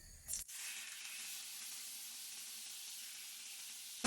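Onion frying in fat in a pan, a steady broad hiss of sizzling that starts abruptly after a brief clatter and stays close and even.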